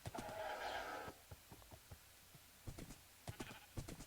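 A Minecraft horse whinnies in a bright sustained neigh at the start, followed by a scattered series of soft clopping hoof steps, some in quick clusters, with no talk.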